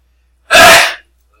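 One sharp, loud sneeze bursts out alone, a quick intake followed by an explosive release, then silence.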